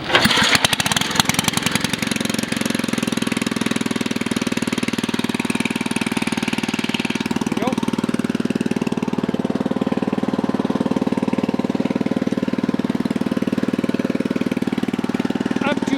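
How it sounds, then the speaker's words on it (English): A child's ride-on toy tractor engine runs steadily and loud up close after a rattly start, with a constant low drone and some knocking clatter throughout, handling noise over the first seconds. "This is a kid's tractor."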